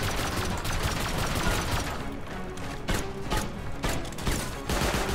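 Dense gunfire in the survival game Rust during a compound raid, rapid continuous bursts of shots close and loud, with brief gaps near the end.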